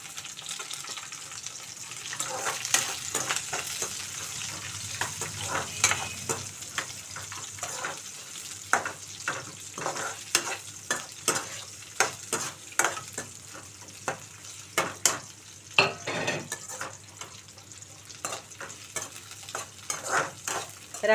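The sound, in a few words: chopped onions and green chillies frying in a pan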